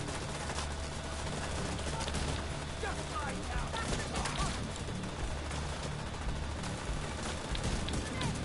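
Dense video game gunfire from hostiles, rapid crackling bursts and machine-gun volleys layered over a rumbling background, continuous and fairly close, with talking mixed in.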